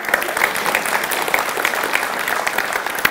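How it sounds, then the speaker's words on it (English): Steady applause from a church camp congregation at a Saturday night worship session, dense and continuous clapping throughout with a few sharper individual claps standing out. "Give these people a big clap"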